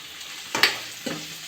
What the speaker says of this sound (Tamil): இஞ்சி பூண்டு பேஸ்ட் நம்ம ஆட் பண்ணிக்கலாம் பச்சை வாசனை போனதுக்கு நல்லா வதக்கிக்கலாம்